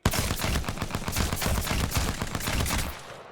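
Rapid automatic gunfire from the video game Apex Legends, a tight, continuous burst of closely spaced shots for about three seconds, loud and close, with no voices.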